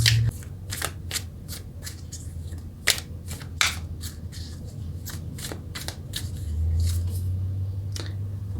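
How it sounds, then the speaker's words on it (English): Tarot cards handled close up while a card is drawn, producing a rapid series of crisp flicks, slaps and rustles over a low steady background, with no speech. "let's get a clarifying card to go with that"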